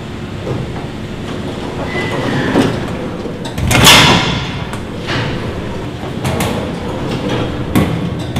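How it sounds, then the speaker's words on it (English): Lift doors sliding shut on a Canon camera, a loud close rumbling slide with a sharp clank as the doors meet, followed by further thuds and rattles of the door mechanism. "you get your camera caught in the lift"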